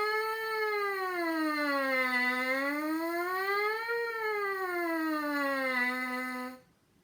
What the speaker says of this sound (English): some sirens on the mouthpiece.